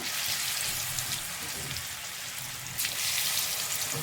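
Cauliflower pakoda fritters, gobi pieces dropped one by one into hot oil, fry with a steady dense sizzle and crackle that runs throughout, swelling slightly near the end.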